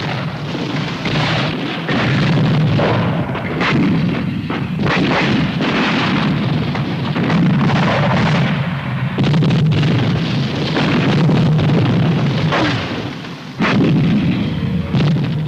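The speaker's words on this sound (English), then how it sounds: "the artillery will put down covering fire, which may include smoke, in support of the attacking tanks and APCs" Artillery covering fire in support of attacking tanks and APCs, a dense continuous barrage of booming shots and rumbling blasts, loud and sustained throughout with no voices.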